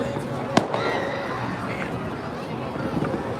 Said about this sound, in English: You can hear in the distance some fireworks going off to my right.